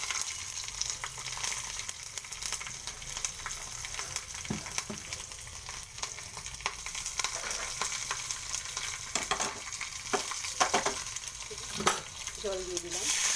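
Mustard seeds, curry leaves and green chili temper in hot oil in a bowl, crackling and sizzling close by with scattered pops and spits over a constant frying hiss.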